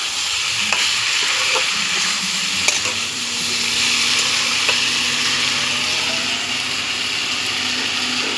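Food sautéing in a pan while being stirred, a steady close sizzle and frying hiss with faint scraping stirs and a few soft clicks, no one speaking.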